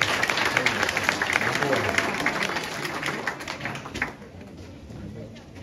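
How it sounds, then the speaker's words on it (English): A party crowd applauds at a Chinese New Year celebration, steady dense clapping for about four seconds that then thins and fades, with some voices mixed in. "so let's give a round of applause"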